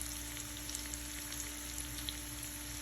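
Meat frying in a pan with soy sauce and a pinch of salt, a steady soft sizzle with faint scattered pops, close and quiet, with no talking.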